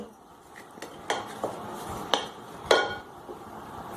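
Chilli and lemon pickle being stirred in a pot, with a utensil clinking and scraping against the metal in several sharp, irregular knocks over a soft background hiss.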